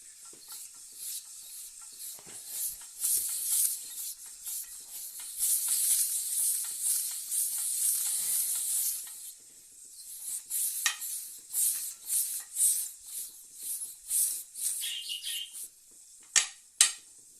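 Continuous hissing sizzle of hot oil with scraping and clinking of metal as an Afghan cauldron is swirled, rising and falling in bursts.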